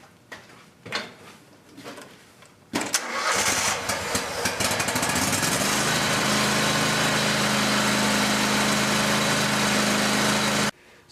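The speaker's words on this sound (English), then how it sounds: "now I'm going to start the mower" A Scag Tiger Cat zero-turn mower with a Kohler Command engine is started after a few knocks and clicks, then roars up to full throttle and holds a loud, steady drone before cutting off.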